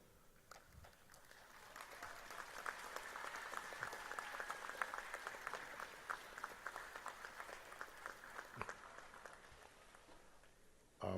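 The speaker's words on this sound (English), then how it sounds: "say thank you by a sustained round of applause" A graduation audience at the University of Trinidad and Tobago gives a sustained round of applause, a steady wash of many hands clapping that swells, holds for several seconds, then stops abruptly.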